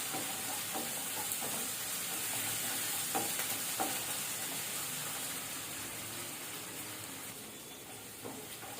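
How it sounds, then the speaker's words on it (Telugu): Ginger garlic paste fries in a pan for tomato curry, a steady close sizzle with soft hiss and occasional light stirring taps, fading slightly toward the end with no one talking. "ఇది ఒకసారి పచ్చివాసన పోయే వరకు వేయించుకుందాం"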